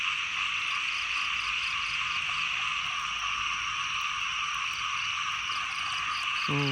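Frogs croak in a dense, continuous chorus that holds at an even level throughout, with no talking.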